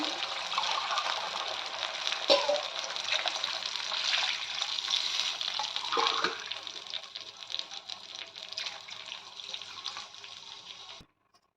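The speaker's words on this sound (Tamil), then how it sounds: "தண்ணி ஊற்றியாச்சுங்க." A steady stream of water pours into a pot for cooking wheat rava kichadi for about eleven seconds, a continuous splashing rush that cuts off abruptly at the end.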